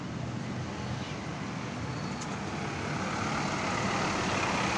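A Surabaya city bus from Tanjung Perak passes at the Purabaya bus terminal in Surabaya, a steady broadband engine and road rumble amid dense traffic noise that grows slightly louder toward the end.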